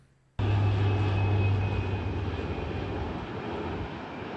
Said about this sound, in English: Oh, look at that plane.